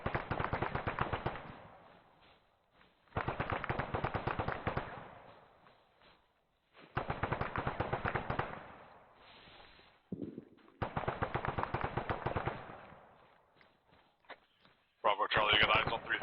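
Machine gun fire in a squad-based military video game, coming in several long, rapid bursts separated by short pauses, loud and close.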